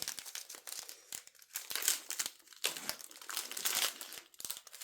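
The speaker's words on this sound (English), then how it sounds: "we're just going to tape over that hole" Tape crinkles and crackles in quick, irregular bursts as it is pulled and pressed over a hole in plastic product packaging, close and fairly quiet, with no talking.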